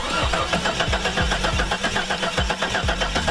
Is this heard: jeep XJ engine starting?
yes